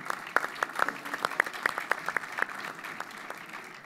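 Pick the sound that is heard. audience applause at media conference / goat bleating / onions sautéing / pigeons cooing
audience applause at media conference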